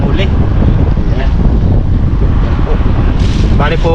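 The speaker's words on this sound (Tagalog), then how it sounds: "Lakas po ng hangin." Strong wind buffets the microphone outdoors where freshly caught fish are being prepared, a loud, steady rumbling roar with no breaks, while brief bits of voice come through near the end.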